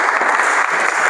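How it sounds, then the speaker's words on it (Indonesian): Students applaud in a pencak silat lesson, a continuous wash of many hands clapping at once, loud and steady for the whole moment with no pauses. "Oh, tepuk tangan."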